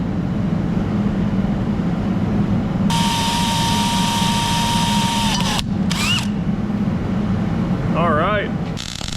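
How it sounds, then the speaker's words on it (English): Drill boring out the center of a broken bolt in the exhaust manifold of a 1965 Pontiac Bonneville Safari 421 HO wagon, with a high motor whine starting partway through, then stopping and restarting in short bursts over a loud, steady background roar. "now we're gonna drill out the center of it"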